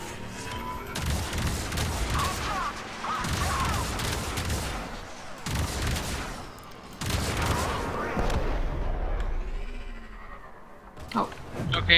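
Rapid bursts of gunfire from the Warframe game, several loud volleys broken by short pauses, with a voice talking over parts of the action.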